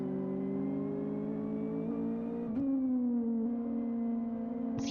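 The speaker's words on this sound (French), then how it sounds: "Profiter un petit peu aussi du son de ces voitures. Je vous rappelle, hein, ce sont des voitures 2 litres." Heard from onboard, a Nissan 2-litre race car in Live for Speed drones with a steady, close, high-revving engine tone that shifts gear once midway, then settles into a slightly lower pitch.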